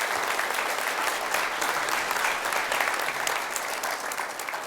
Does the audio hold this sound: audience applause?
yes